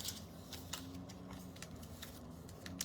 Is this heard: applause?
no